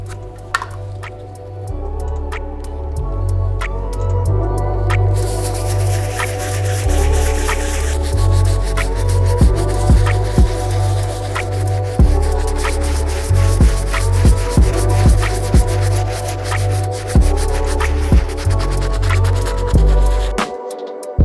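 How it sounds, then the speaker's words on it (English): A medium bristle brush scrubs a worn Air Jordan 1 Dave White sneaker in steady, rough back-and-forth strokes close up, with scattered clicks and knocks and a constant low rumble underneath, and no voices. "We'll be using our medium bristle brush to try to widen up these back areas a little bit more."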